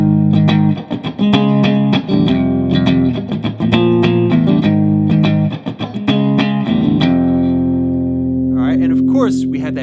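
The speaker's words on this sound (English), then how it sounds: "Of course, we have that really heavy distortion there" A heavily distorted electric guitar plays a riff, chugging power chords in a steady rhythm at close range, loud and dense, easing into sustained ringing chords near the end.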